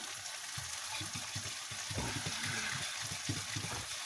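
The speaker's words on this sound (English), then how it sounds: "I got green peppers, tomatoes, onions. Got them cooking there" Green peppers, tomatoes and onions sizzle steadily in a pan for an omelette, a constant hiss of frying with soft crackles and stirring clatter, close and moderately quiet, with no talking.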